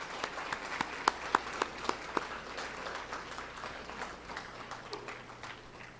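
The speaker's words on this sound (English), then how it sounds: "please give your parents a round of applause" Students at the LTMS Academic Awards 2019 clap for their parents, faint scattered applause with a few sharper nearby claps early on, fading to a soft patter.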